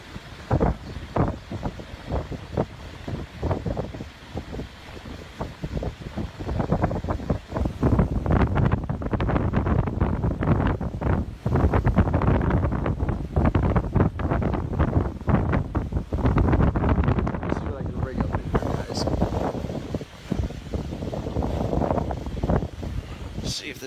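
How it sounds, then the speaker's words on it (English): Strong wind gusts buffet an outdoor microphone near water, producing loud, rough rumbling bursts that swell and surge continuously, with someone speaking briefly under the noise. "That's a good gust."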